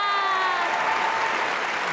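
A studio audience at The Voice Thailand claps for contestant Nat, a soft, even patter of hands heard at a distance, with a fading tonal ring at the start.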